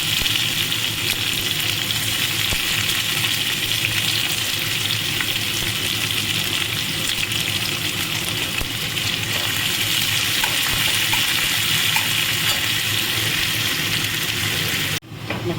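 Onion frying in a pan, a steady loud sizzle and crackle of oil running continuously for several seconds, close and uninterrupted, then cut off abruptly near the end.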